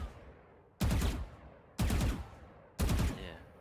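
Three separate bursts of Vandal rifle fire in the first-person shooter Valorant, each a loud, punchy volley of rapid shots lasting about half a second, spaced roughly a second apart with quiet gaps between.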